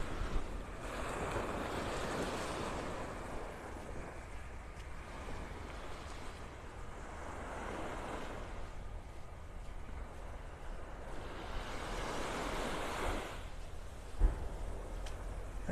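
Ocean waves roll onto Vanderbilt Beach in North Naples, Florida, each breaker swelling and washing in a slow repeating cycle, with steady wind noise across the microphone and no talking.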